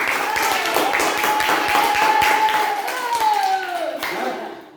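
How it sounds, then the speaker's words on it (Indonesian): Students clap in a classroom during a physical education lesson, a dense patter of many hands with children's voices and shouts running over it throughout. "tepuk tangan dulu untuk kita semua"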